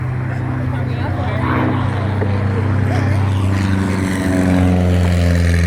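A CA-18 Mustang, the Australian-built version of the propeller fighter, roars steadily overhead at an airshow, its piston engine drone loud and continuous and swelling slightly toward the end, with a voice talking underneath.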